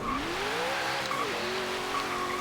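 Chevrolet Corvette ZR1 from 2009 in a Forza Horizon 3 launch, its engine note sweeping up and dropping at gear changes over steady tire squeal, loud and continuous throughout.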